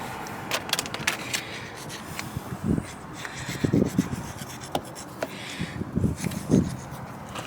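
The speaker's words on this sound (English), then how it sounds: "I went and got a file. We're going to clean this hole out. It's got rust in it." A metal file rasps back and forth, cleaning rust out of a hole on a 2000 Ford Ranger XLT, in short uneven scraping strokes with occasional knocks, close and moderately loud.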